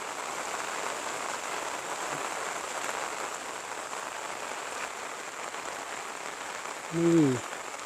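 Light rain patters in rural Isan, a quiet, uniform hiss that continues evenly until a short voice breaks in near the end.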